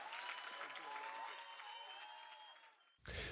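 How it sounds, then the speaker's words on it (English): Audience applause at the Growth Summit fills the room steadily for about three seconds, dense and moderately loud, with a sustained tonal hum running underneath before an abrupt burst of noise at the end. "give this man the biggest round of applause"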